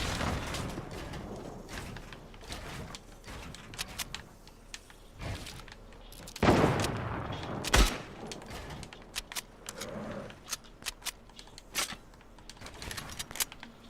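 Fortnite gunfire, scattered sharp shots and short rapid bursts spread throughout, with a couple of louder bangs in the middle amid faint background game sounds.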